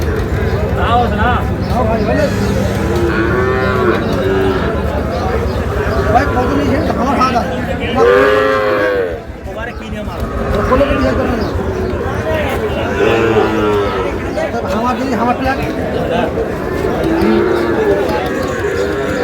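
Sahiwal bull calves low repeatedly at a busy cattle market, their deep calls rising over constant crowd babble and trader chatter throughout.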